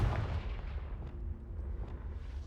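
A Confringo fire spell explosion in the video game Hogwarts Legacy, a heavy low rumbling blast that fills the whole moment and rolls on without a break.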